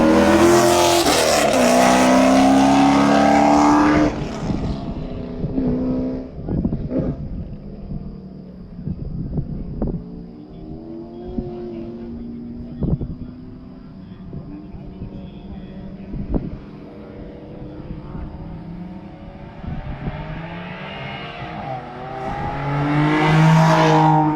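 Race cars, a GR Supra and a green Camaro, roar past loudly on the Eagles Canyon circuit, followed by quieter distant engine noise and sharp knocks before another car's roar builds at the end.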